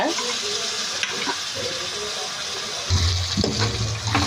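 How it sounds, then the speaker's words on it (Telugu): Tomato pieces crackle and sizzle in a pan for egg and prawn curry with a constant hiss; a voice speaks briefly near the end. "టమాటా ముక్కలన్నీ బాగా వేగనివ్వాలి"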